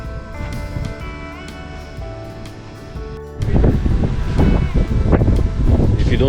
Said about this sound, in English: It's just too windy here